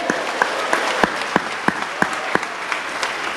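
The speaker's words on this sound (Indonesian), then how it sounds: "Boleh tepuk tangan dulu yang meriah" An audience claps at a seminar, with a few sharp, regularly spaced claps standing out over a bed of scattered applause, fairly close and loud.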